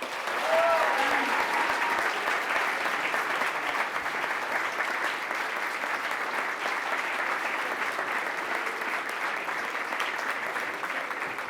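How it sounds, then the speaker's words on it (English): An audience at a cum laude induction ceremony applauds continuously, a sustained, even wash of many hands clapping with faint cheering mixed in. "please cheer your loudest and direct your positive energies their way as each name is read"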